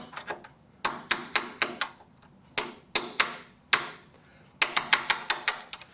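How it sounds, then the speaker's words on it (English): A hammer strikes a chisel against a door lockset in sharp, ringing metallic blows, first singly, then in quick bursts of four to six hits, close and loud with no talk. "Let's hammer it with the chisel."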